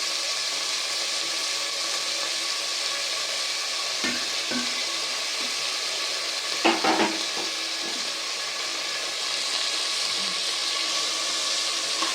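Potatoes tumble into a hot pan with chopped dry red chillies for vegetable chowmein, setting off a steady bright sizzle of frying with a few sharp clatters of stirring partway through.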